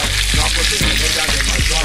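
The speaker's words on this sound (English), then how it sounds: "Look at that sizzle." Haddock sizzles and fries in a hot pan, a loud, steady crackling hiss with a few soft bumps of stirring or shifting, close by and with no talking.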